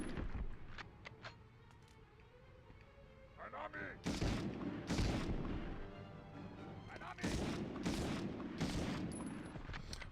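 Pistol gunfire from the video game GoldenEye: several sharp loud bursts at intervals over game background sound, with a voice talking underneath.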